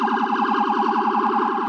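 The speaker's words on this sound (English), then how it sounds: "The device is positioned under the hood of the car and works with traditional sirens." A Rumbler police siren device mounted under a car hood, working alongside a traditional siren, blares a loud, continuous rapid warbling wail that cycles steadily up and down throughout, with no voices.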